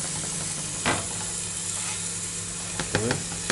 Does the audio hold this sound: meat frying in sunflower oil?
yes